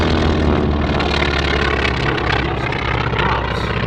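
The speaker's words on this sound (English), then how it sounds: "Take a look at the three here as they come by. The Corsair, the Wildcat, and the Avenger." Piston-engined WWII warbirds — a Corsair, a Wildcat and an Avenger — pass together at an airshow, a steady loud propeller drone with deep rumble that holds throughout without a clear rise or fade.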